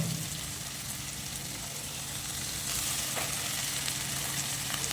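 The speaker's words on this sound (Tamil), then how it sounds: "வெங்காயம் போட்டு வச்சு அதோட கருவேப்பிலை போட்டுங்க" Onion and curry leaves fry in hot oil for tamarind rice, a continuous close sizzle with a soft steady hiss and no voices.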